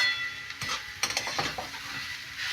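Grated carrots for carrot halwa fry gently in a pan over low gas, with a soft sizzle and a few close spoon scrapes and clinks against the pan, and no talking.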